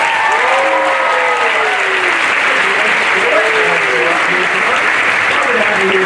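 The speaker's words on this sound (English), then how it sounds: "give them a big round of applause" Audience at a stage hypnosis show applauding the volunteers: a loud, steady wash of clapping fills the whole stretch, with cheering voices and whoops audible over it.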